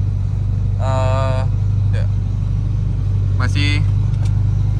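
A Honda Integra DC2 engine gives a steady, loud low hum throughout, with someone talking over it.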